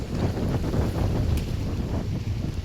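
Steady rain and gusting wind buffet an outdoor water park with dinosaur-head fountains, a continuous broadband rush that stays loud and even throughout, with no voices.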